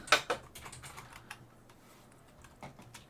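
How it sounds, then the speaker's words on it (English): Rapid keystrokes on a computer keyboard during a podcast recording: a dense burst of close, crisp clicks, then scattered taps with gaps, heard alone without speech. "Hang on, I'm still typing."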